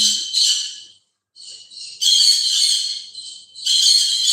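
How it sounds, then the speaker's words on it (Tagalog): A bird gives shrill, high-pitched calls in several bursts separated by short silences, loud and close. "Maingay yung anong ibon."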